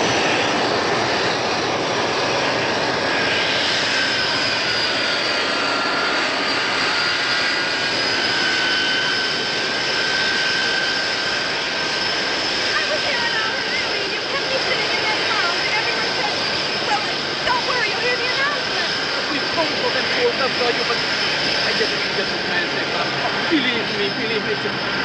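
Airplane engines roar steadily and loudly throughout, a broad whine with sustained high tones from a jet on the ground or taking off, in a 1960s comedy film scene, with some voices faintly beneath.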